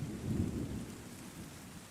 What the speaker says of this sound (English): we'll just listen to the rain